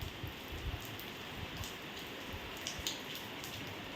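Heavy rain pours down steadily, a dense continuous patter on surfaces with scattered nearby drips, and no voices.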